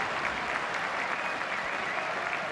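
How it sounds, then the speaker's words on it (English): Dense, continuous roar of a football stadium crowd chanting and singing at an FA Cup match between Luton Town and Manchester City, a broad steady wash of massed voices with no single voice standing out. "The crowd singing the name of Kevin De Bruyne."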